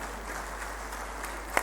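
A university audience gives faint, distant applause in a hall, a thin, steady patter of clapping for the whole stretch, with one sharper clap near the end.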